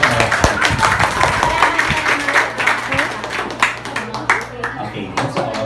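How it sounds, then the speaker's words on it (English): A debate audience breaks into loud applause for the winning affirmative side, sharp close claps over a crowd wash with some voices mixed in, thinning slightly toward the end. "let's give them a round of applause."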